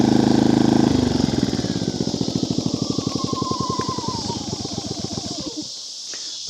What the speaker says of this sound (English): The generator's been running for 2 hours.